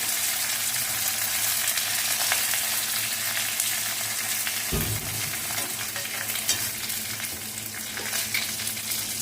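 Curry leaves and asafoetida sizzle in hot oil, a continuous crackling fry that briefly dips and swells midway, then carries on steadily without talk.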